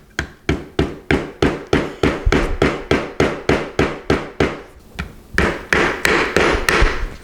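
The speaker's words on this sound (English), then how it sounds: "so I am going to have to hammer them in" Chilled parts are hammered into a Precision guitar kit during final assembly: sharp, evenly spaced hammer blows, about eighteen in quick steady rhythm, loud and close with no talking.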